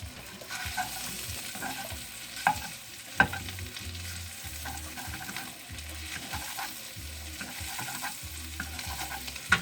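Chorizo sizzles and crackles steadily while frying in a pan, with occasional louder pops and scraping stirs from a utensil, and low thuds underneath throughout.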